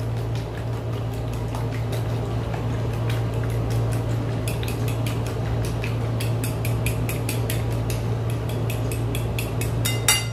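Utensil scraping and clinking in a bowl as tuna is mixed with ingredients for tortang talong, an eggplant omelette; steady close scratches and taps continue throughout over a constant low electrical hum, with no talking.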